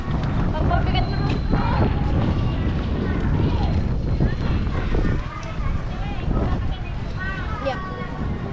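Strong wind buffets the microphone in a steady low roar during a flood, with people talking over it throughout.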